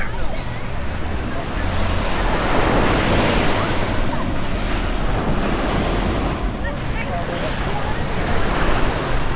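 Steady roar of ocean surf breaking at Mākaha beach in Hawaii, a dense continuous wash of waves with heavy wind buffeting the microphone and no speech.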